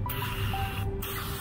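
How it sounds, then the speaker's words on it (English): A steady hiss of insecticide aerosol spray on a ground yellow jacket nest, close and continuous, with two short gaps where the spraying stops briefly. "And the spray."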